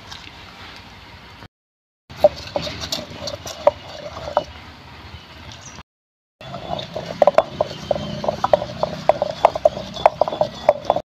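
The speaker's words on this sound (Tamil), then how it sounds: "அரிசியும் பருப்பும் ஊறிட்டு அரைக்க போகிறோம்." Soaked rice and lentils for adai batter are ground in a stone grinder, making rapid rhythmic clicking and knocking close by, with two short silent breaks between stretches of grinding.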